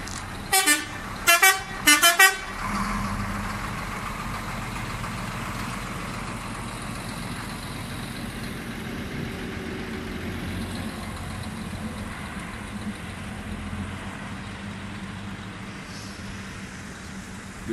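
A truck hauling a new 16.50-metre trailer out of the factory sounds a few loud horn blasts, then idles and rumbles steadily nearby.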